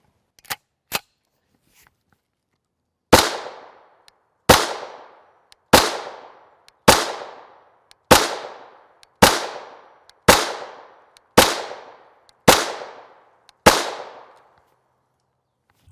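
Ten sharp gunshots from a Ruger LC carbine firing Fiocchi Range Dynamics 5.7x28mm 40-grain full metal jacket rounds at 25 yards, spaced at a steady rhythm about a second apart and each with a short ringing decay, after two quieter clicks at the start.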